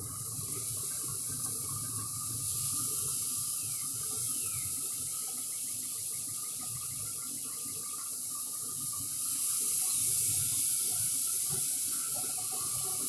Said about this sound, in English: What we gonna do is we gonna pour that on the meat.